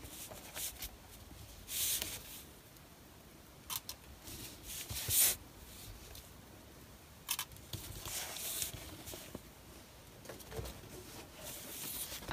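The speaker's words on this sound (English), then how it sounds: "we can just place it over and cut the same on all four sides" Scissors cutting fabric for a journal dust jacket make scattered crisp snips and rustles at close range, coming in irregular bursts separated by quiet handling gaps.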